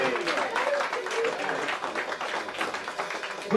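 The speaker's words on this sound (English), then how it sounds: "how about a round of applause for our wonderful singer" Small audience at a cocktail-hour show applauding a singer, a moderate, uneven patter of clapping in a room, with a voice briefly breaking in at the end.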